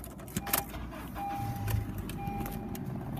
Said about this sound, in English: Alright, let's go ahead and turn on the car real fast.